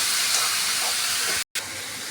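Two chopped tomatoes hit a hot pan while making a fenugreek leaf, sesame and tomato chutney, giving a loud, steady, close sizzling hiss that cuts out briefly near the end, then resumes.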